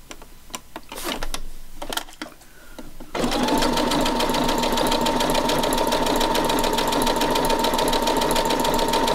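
A sewing machine runs steadily, stitching a stretch stitch, a double stitch, through folded fabric for collage material; the motor's busy, even whir comes in loud and close after a few seconds of quiet handling noise and keeps going without a break.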